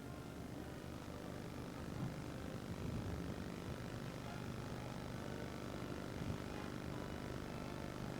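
An airplane on the main flight path to Manchester Airport passes overhead as a steady, broad, distant roar. It holds even for several seconds, heard from an open countryside walk at Mow Cop.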